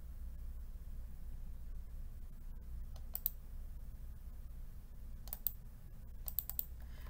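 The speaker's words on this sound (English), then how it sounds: "right here, and I'm going to click" Small clusters of crisp computer mouse clicks during measuring in ImageJ, quick double and triple taps at close range over a faint steady background hiss, with no talking.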